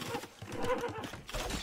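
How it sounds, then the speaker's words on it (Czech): Horse neighing as it dies in Age of Empires 2, a short whinny with rapid pulsing, fairly faint, followed by a dull thud. "Tady zemřel Autaryho kůň"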